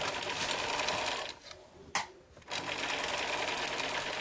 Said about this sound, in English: we're just going to sew straight down the edge.